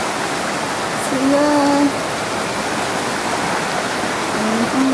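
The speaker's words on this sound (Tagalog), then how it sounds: "Yung water falls sa baba" Waterfall below a trail at Tai Tam Reservoir in Hong Kong after rain, a steady broadband roar heard from nearby, with birdsong chirps and a brief spoken remark over it.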